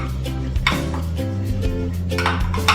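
Salmon tossed with salt and pepper in a bowl, with clinks and scrapes of a utensil against the dish, close and moderately loud over a low hum.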